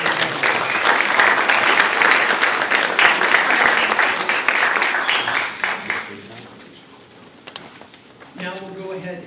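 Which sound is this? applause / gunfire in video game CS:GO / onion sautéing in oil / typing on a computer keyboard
applause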